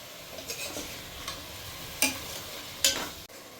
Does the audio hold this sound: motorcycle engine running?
no